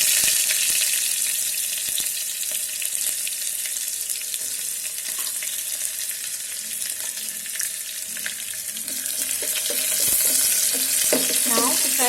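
Onion fries in oil inside an electric kettle for veg pulao, a loud, steady close-up sizzle with scattered light stirring clicks and scrapes.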